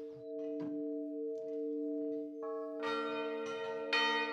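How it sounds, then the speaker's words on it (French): Four church bells ring out for the Angelus with sustained, overlapping tones, a few bells at first, then more joining in, loud and resonant as the peal builds. "les 4 cloches sonner, pour l'Angélus"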